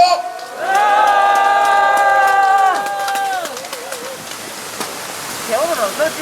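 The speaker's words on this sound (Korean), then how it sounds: "여러분 뜨거운 박수를 한번 보내주십시오" Audience applause after a speech by a former National Assembly vice speaker at a March 1st independence movement rally in Gyeongnam, a steady broad patter of many hands filling the hall while an amplified voice speaks over it early on.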